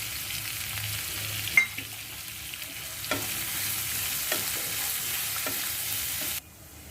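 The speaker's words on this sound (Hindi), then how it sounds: "प्याज को गोल्डन ब्राउन होने तक पकाएंगे।" Onions frying in a pan in oil until golden brown, a steady close sizzle with occasional stirring clicks and scrapes, no voices.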